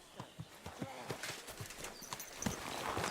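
Horse hooves clip-clop in a steady walking rhythm in the Kingdom Come video game, each hoof strike clear and close, with a faint whinny-like tone and voices talking in the background.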